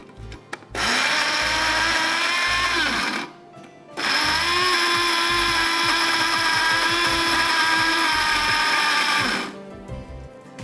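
An electric blender grinding chilies and onion with a little water whirs loudly in two long bursts, pausing briefly in between, its steady motor grinding before stopping.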